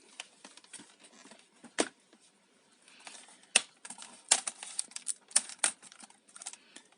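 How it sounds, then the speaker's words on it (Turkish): A Lenovo Z50-70 laptop keyboard is pried free from its retaining clips during disassembly, giving a close run of quiet, irregular plastic clicks and snaps with brief pauses between them. "Klavyeyi bu şekilde rahatlıkla tırnaklarından kurtarabiliyoruz."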